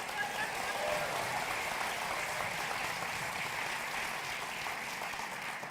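Audience applause at the Steinmetz Hall opening ceremony, a faint, steady wash of clapping that holds evenly for several seconds, heard from a distance.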